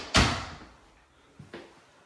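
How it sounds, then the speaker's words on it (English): A bathroom toilet door in a primary suite of a Conroe home shuts with one loud, close thud that rings away, followed a second later by a softer pair of knocks as it settles. "Toilet has a door."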